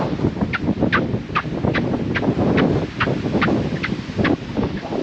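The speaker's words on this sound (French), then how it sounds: "Ce qui est assez drôle ici, c'est le bruit du sable" Rhythmic squeaks of sand underfoot on a Gold Coast beach, about a dozen short chirping squeals in a steady walking pace over a constant roar of wind and surf.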